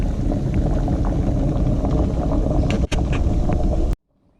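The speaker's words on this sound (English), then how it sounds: "I covered it and you can hear them boiling away now." A steady, dense roiling of water boiling hard with quail eggs in a covered pot, close and fairly loud, with faint rattling, cutting off abruptly near the end.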